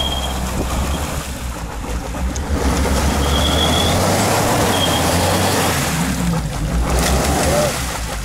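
An engine strains while a vehicle tows a stuck car out of deep water, with sloshing water and wind buffeting the microphone throughout.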